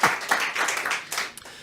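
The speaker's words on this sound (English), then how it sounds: "Big round of applause for you, Mikey." Brief, modest clapping from a small live audience, a handful of distinct claps rising and fading over under two seconds.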